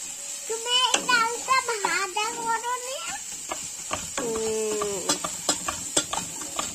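Crab curry stirred in a pan: a spoon scrapes and clacks against the pan in scattered sharp knocks, with a soft sizzle beneath, while a voice and other talk run over much of it.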